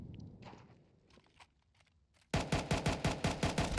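Counter-Strike 2 gunfire while running: after soft footsteps and quiet movement, a loud rapid burst of automatic shots starts abruptly, about ten evenly spaced cracks close by.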